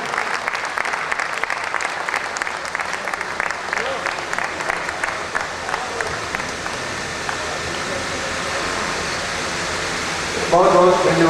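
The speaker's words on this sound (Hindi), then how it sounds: "बुलाएं आपकी जोरदार तालियां आदरणीय बुद्धिनाथ मिश्र" At a Hindi poetry gathering, the audience welcomes the poet Buddhinath Mishra with continuous, even applause like steady rain, which swells into a louder burst near the end.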